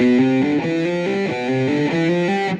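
Heavily distorted electric guitar plays a steady, even riff of repeated chords, loud and sustained with a buzzy, saturated tone.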